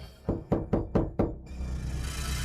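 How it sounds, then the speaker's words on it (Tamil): Five firm, evenly spaced knocks on a door ring out close and loud, each a hollow thud, followed by a low rumble of background noise. "ரொம்ப நேரமா கதவை தட்டிக்கிட்டே இருக்கேன்,"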